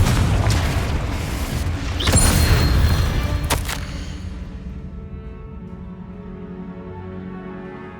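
Confringo explodes in Hogwarts Legacy, a heavy rumbling boom that swells near the start, followed by a sharp crack, then a long low decaying rumble fading into a quiet, faintly ringing tail.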